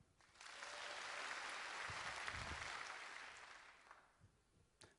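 Audience applause swelling from a brief lull into sustained clapping, then tapering off, as a crowd at a speaker's event tests how loud it can get; a few stray claps trail at the end, with no talking.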